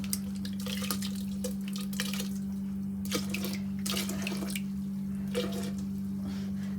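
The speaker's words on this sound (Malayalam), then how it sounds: "പാകത്തിന് വെള്ളം ഒഴിച്ച്" Water is poured to the right amount into Kerala varutharacha sambar, giving intermittent splashing and trickling bursts over a steady low hum, close and moderately loud without talk.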